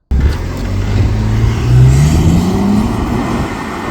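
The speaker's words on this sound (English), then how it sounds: "So in spite of its gargantuan weight, this car actually launches pretty hard." 2025 Audi Q8 with Quattro all-wheel drive launching hard from a standstill, engine loud and close as its pitch climbs steadily through one long pull, then easing into a steady drone.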